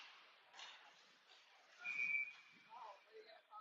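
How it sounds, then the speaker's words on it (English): A referee's whistle at a 16U youth ice hockey game sounds as a short thin blast in the middle of the clip, partly under arena crowd noise and a commentator's voice. "we got another whistle here"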